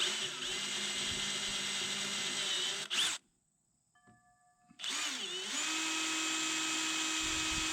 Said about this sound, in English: So I'm going to pre-drill the holes.